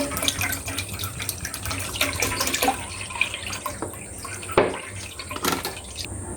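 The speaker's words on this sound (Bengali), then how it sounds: "গরুর দুধটা আমি ছেঁকে নেব।" Cow's milk is poured through a sieve in a kitchen, making a continuous trickling, splashing stream with scattered drips and a few sharper taps of the utensils.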